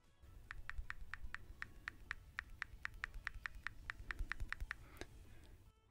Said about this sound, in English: let's start off by turning up my volume here and typing on the keyboard